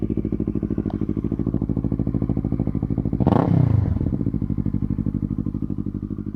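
A motorcycle engine with a taped and clamped exhaust idles in a steady, loud, close-up throb, then revs sharply once around the middle before settling back to a rumbling idle.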